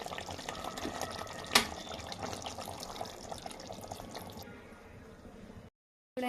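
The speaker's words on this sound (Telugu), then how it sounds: "ఇప్పుడు కొంచెం నీళ్ళు వేసుకుందాం" Water being added to fried masala chicken in a home kitchen: a close, steady watery splash and trickle, with one sharp clink partway through, easing off before the sound cuts out.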